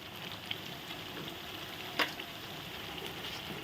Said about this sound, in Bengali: আর এইদিকে আমি ফ্রাইড রাইসের জন্য মশলাগুলো নেড়ে দিচ্ছি